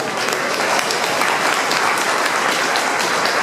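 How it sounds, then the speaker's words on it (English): A benefit event audience for Nepal earthquake victims gives a round of applause, a loud, dense, continuous roar of clapping that stays level throughout. "Could we give you all a round of applause?"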